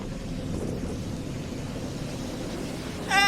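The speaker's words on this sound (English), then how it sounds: "Very windy!" Strong sea wind buffets the microphone at a ferry port in Japan, a dense continuous roar and rumble without breaks, ending in a short higher burst of noise.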